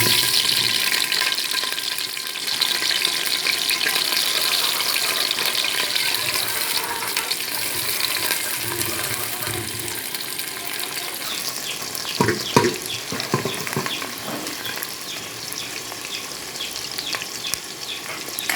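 Onions fry in ghee in a cooking pot with a steady loud sizzle throughout, joined by a few scraping stirs and clinks toward the end, with no talk.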